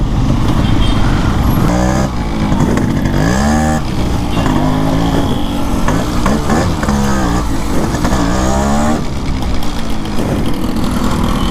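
A vintage Yamaha RX135 two-stroke motorcycle blares its exhaust on a road, loud and close, with a raspy, crackling idle and repeated sharp throttle blips rising and falling over about eleven seconds.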